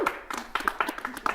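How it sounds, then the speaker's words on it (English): Scattered hand claps from an audience at a community charity fundraiser after the yearly donation total is announced, a brief, uneven burst of separate claps with voices mixed in. "Round of applause, everybody."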